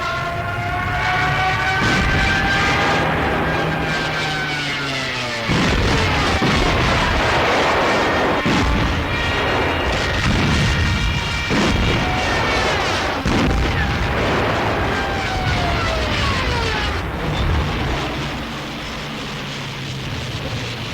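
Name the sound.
Stuka dive bombers bombing enemy ground targets, explosions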